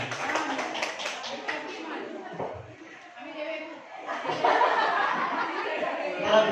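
Audience at a school teachers' gathering claps for a teacher, a short patter of hands mixed with chuckles and chatter, then a voice speaks as murmuring continues.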